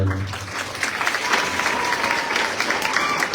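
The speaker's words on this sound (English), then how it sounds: "please everyone clap for Mrs. Brower" Applause from a school year-end ceremony audience clapping for an arts integration specialist, a dense, steady wash of many hands close by, with a few low voices at the very start.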